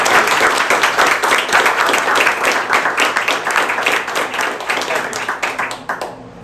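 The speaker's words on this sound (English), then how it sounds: "let's give it a hand of applause for our Open Door Health team" An audience applauds a community health team at a Rhode Island event, a dense, even wash of many hands clapping that slowly tapers off over several seconds.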